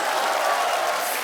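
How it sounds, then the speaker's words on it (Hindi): Studio audience on a TV comedy show, The Kapil Sharma Show, gives a brief burst of dense, steady applause with a faint crowd murmur. "तालियां आलिया के लिए।"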